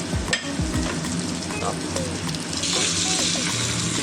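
Chicken pieces frying in a pan with onion and garlic for an Assamese chicken dish, giving a steady close sizzle with stirring clatter and some running-water noise.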